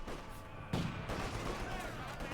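A battlefield in Company of Heroes 2 holds sniper rifle fire, one sharp loud crack standing out amid distant background shooting, while a commentator talks over it.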